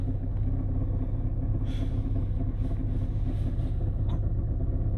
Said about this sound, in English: As you can hear, there are some sounds from the engine,